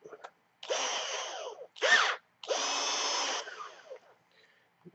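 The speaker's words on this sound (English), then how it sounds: "chuck up the wire in the drill" A handheld power drill spins a chucked length of wire for a pin fix on an Overdose and Pegasus mod, three close whirring bursts, long, short, then long, separated by brief pauses.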